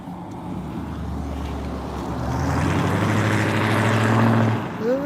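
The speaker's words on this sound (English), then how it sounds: "It's a loud sounding car. I guess it has mufflers. It's a Mustang." A loud Ford Mustang rumbles nearby, its low roar swelling as it passes, then fading with a brief higher whine at the end.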